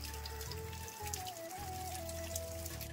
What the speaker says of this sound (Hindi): नीचे आ रहा है पानी बहुत ज्यादा स्पीड में